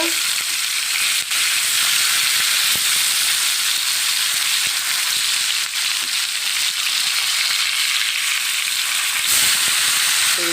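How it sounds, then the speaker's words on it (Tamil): Masala fish frying in a pan, a loud, dense, continuous sizzle and hiss that holds steady throughout, with faint clicks as the pieces are turned. "மீன் நமக்கு நல்லா வெந்துட்டுருக்கு இப்போ திருப்பி போடலாங்க"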